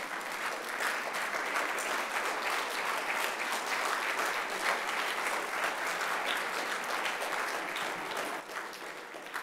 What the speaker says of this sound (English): If not, we will stand and clap on your behalf.